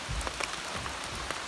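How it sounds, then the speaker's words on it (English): Rain falls on the tarp-covered roof of a DIY off-grid cabin during the tail end of Hurricane Beryl, a steady, dense hiss of drops with a few louder pats, and no voices. "the rain is rainy"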